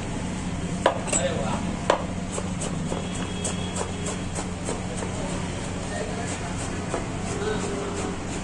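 Knife chopping cabbage on a board, a run of quick light cuts over a steady background hum, with a couple of sharper knocks early on and faint talk in places.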